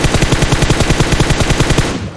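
Rapid automatic gunfire in the mobile shooter Battlegrounds Mobile India, a loud, steady burst of evenly spaced shots that fills the whole stretch and fades slightly at the end.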